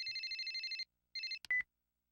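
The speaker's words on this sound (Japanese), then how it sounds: "その時、サンジから渡された携帯電話が鳴った。" A mobile phone rings in a Japanese sound novel game, a rapid electronic trill that repeats in short bursts, stops, then gives way to a brief beep, clean and alone without voices.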